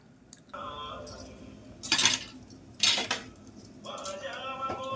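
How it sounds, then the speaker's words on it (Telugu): Basmati rice tipped into a cooking pot for bagara rice, two bursts of grainy, rattling pours near the middle, between quieter clinks of a metal pot and utensils, with no speech. "ఇప్పుడు బియ్యం వేయాలి ఇందులో"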